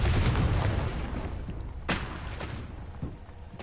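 Confringo fire spells blast in the video game Hogwarts Legacy. A heavy booming burst opens, followed by rumbling and two sharper impacts a second or so apart.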